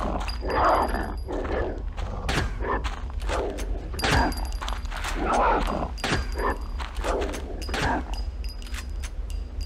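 Dogs barking and growling in the horror video game Blair Witch Volume 1: Rustin Parr, repeated harsh bursts close by, mixed with thumps and shots while someone talks over much of it.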